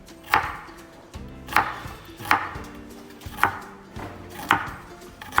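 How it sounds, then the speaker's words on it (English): A knife chopping carrots into very small pieces on a cutting board, six evenly spaced crisp thunks close up, roughly one per second, with no voices. "you're gonna cut the carrots in very little pieces"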